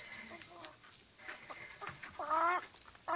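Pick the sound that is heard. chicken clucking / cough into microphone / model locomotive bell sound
chicken clucking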